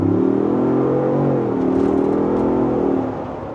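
A 2024 Ford Bronco's engine roars as it's floored, its steady drone climbing slightly in pitch, then easing off near the end; close and continuous with no talking.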